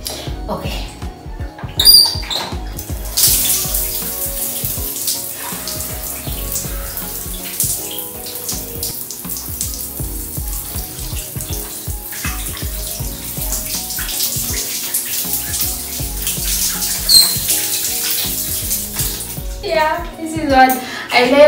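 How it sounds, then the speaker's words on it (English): Shower water running while hair is washed, a continuous close spray and splatter lasting about twenty seconds with small bumps and handling noises near the start and end. "I like washing my hair in the shower because water"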